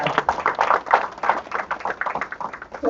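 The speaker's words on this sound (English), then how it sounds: "So let's clap for that." Audience applause at a convention in Atlanta, Georgia, a brief spell of many hands clapping in a dense, uneven patter close by.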